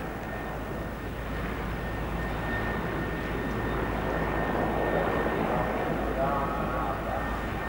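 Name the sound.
Su-27 Flanker jet fighter performing tail slide at airshow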